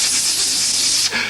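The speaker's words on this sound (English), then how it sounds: "defacing the walls of Buckingham Palace with an aerosol" An aerosol spray can spraying paint on a wall gives a steady, loud hiss for about a second, then cuts off abruptly and resumes.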